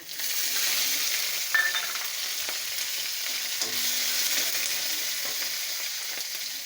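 Chopped green chillies sizzling in a pan with coconut while cooking taro leaves with prawns; a steady, even hiss of frying oil with faint scrapes of stirring, no voices.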